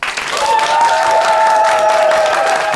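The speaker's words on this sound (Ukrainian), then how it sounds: "Тому ваші бурхливі оплески" An audience at a comedy roast battle applauds loudly and continuously, a dense wash of clapping with some cheering mixed in.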